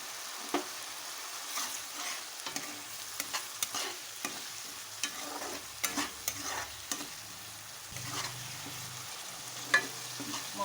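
Turmeric masala stir-fries in oil for chicken curry, a soft sizzle broken by frequent spoon scrapes and clatters against the pan, fairly quiet and close with no voices.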